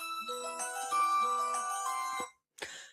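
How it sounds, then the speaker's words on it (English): A phone alarm going off: a loud electronic melody of sustained, ringing tones that plays for about two seconds, stops, then starts again briefly. "sorry, that was my alarm."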